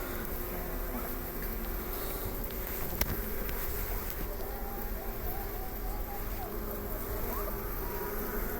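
Honeybees hum continuously during a January hive inspection, a dense steady drone close by that holds for the whole stretch, with faint background rustling.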